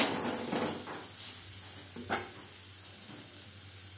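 Potatoes fried in oil with salt, the base of a Bengali aloo mutton curry, give a steady close sizzle and hiss with a few soft stirring scrapes and no voices.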